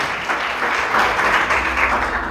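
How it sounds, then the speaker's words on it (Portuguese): Church congregation applauding together during a sermon, a dense steady wash of clapping from many hands that holds at an even loudness for a couple of seconds, with no voices on top. "Pode aplaudir Jesus?"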